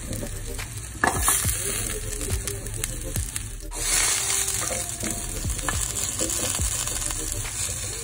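Green chilies, cumin and coriander seeds fry in a little oil in a pan for coconut mint chutney, with a steady close sizzle and intermittent scraping from stirring.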